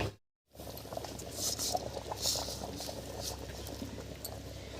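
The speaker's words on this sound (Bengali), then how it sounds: "বেশ কিছুক্ষণ খুব ভালোভাবে জাল করে নিয়েছি বলক উঠে গেছে" A pot of Bengali sajne data (drumstick) ghanto curry bubbles at a rolling boil, a steady close patter of popping bubbles after a brief silent gap at the start, with no talk.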